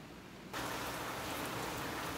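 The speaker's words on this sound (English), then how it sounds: "It is raining." Steady rain falls, a dense even hiss that starts abruptly and then holds constant at moderate level, no voices.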